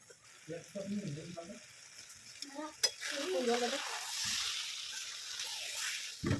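Spice masala for chickpea ghugni fries and is stirred in a pan, building from quiet scraping under a voice into a loud, steady sizzle, with a sharp clink of a utensil on the pan.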